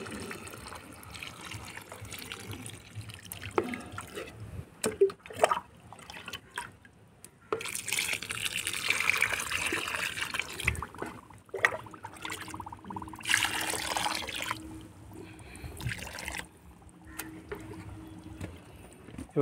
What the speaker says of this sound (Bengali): এবার এর সাথে এতে আমি এবার জল ভরে দেবো